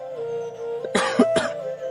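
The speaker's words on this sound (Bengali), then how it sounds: "কাশিটা আবার বাড়ছে" A man coughs twice in quick succession, harsh and close, with a brief throat-clearing rasp over a faint steady hum in a quiet room.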